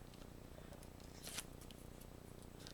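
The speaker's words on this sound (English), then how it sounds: "cut a piece of foam tape off. And I'll use my gunked up scissors" Gunked-up scissors snip through a piece of foam tape in one quick, faint cut against a quiet room.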